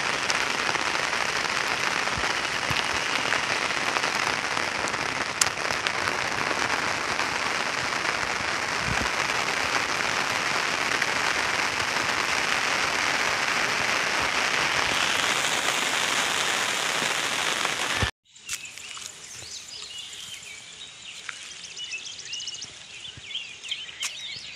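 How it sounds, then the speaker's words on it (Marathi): Heavy unseasonal May downpour in the Konkan countryside, a dense steady roar of rain pouring onto surfaces for a long stretch, then cutting off abruptly to a quieter patter of drips and lighter rain near the end. "समोर पाऊस बघा किती आहे तो."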